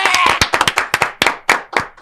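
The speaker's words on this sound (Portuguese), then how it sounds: "Uma salva de palmas pro nosso querido Ivan Moral, uma salva de palmas" A small group claps for a podcast guest, sharp individual hand claps close by in an uneven, scattered rhythm that thins out into separate claps over two seconds, with no talking.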